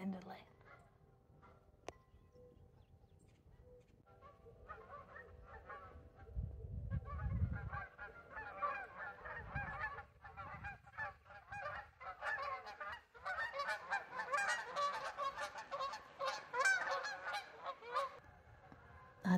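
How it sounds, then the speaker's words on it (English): Geese honk repeatedly as they come in to land at a winery, faint at first and building into a loud, overlapping chorus of calls, with some low rumbling underneath. "Geese are coming in to land."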